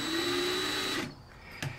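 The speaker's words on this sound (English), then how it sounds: "I got my drill clamped down so that it won't move around on me when I'm squeezing the trigger" An electric drill clamped down on a workbench for model ship work runs at a steady, loud, close whine, then cuts off abruptly and winds down into quieter room noise with a brief knock.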